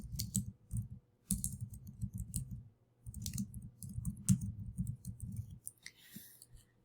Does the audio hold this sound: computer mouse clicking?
yes